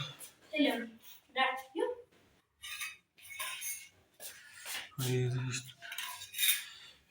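Metal ladles and spoons clink and clatter in a village kitchen in several short bursts, mixed with ongoing conversation between people.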